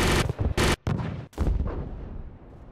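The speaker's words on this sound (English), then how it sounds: "You're firing too close to the friendlies." Bursts of 25 millimeter cannon fire from a gunship in the Modern Warfare video game: several heavy, booming shots in quick succession, loud and close, then fading into a rumbling decay.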